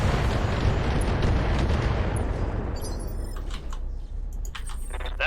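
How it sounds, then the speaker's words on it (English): A mech in the video game Battletech fires a full weapons salvo, a loud, dense roar of blasts and booms that runs for several seconds, then thins into scattered metallic clanks and crackles. "Firing full salvo."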